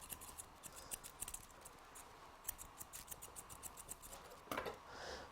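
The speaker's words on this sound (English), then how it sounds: "as a last touch, I can use curved scissors to make the last touch" Curved scissors snip through a Bichon Frise's coat during a face trim in a grooming session, a quiet, close series of crisp metallic clips in an uneven rhythm, with no talking.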